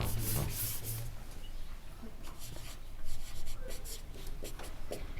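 Close, steady scratching of a pen writing out a maths problem on paper, a continuous rubbing texture with short stroke bursts, and a voice briefly audible.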